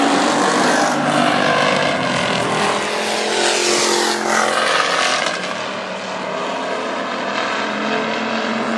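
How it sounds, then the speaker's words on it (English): WISSOTA street stock race cars circle a dirt speedway at North Central Speedway, their engines a loud, continuous roar that swells and fades slightly as the pack passes, with no talk over it. "it's too slick to get any grip and have any drive coming out of the turn, as Danny's driving a perfect race"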